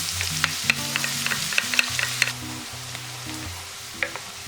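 Minced garlic frying in oil over low heat with bay leaves, a gentle crackling sizzle punctuated by light clicks of a spatula stirring, close and quiet, with a faint low hum beneath.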